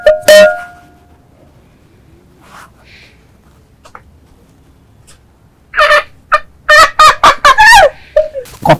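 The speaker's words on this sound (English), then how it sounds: "Untie the chicken before you do that." A tied-up fowl squawking and gobbling in loud, close bursts: one sharp cry at the start, then a rapid run of harsh calls after a quiet stretch.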